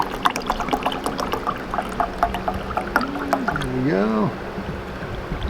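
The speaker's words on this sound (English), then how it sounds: "Get a little canteen water going." Water poured from a military canteen, a soft liquid trickle and splash in the field during a Gulf War era MRE meal, mixed with nearby talk and handling noises.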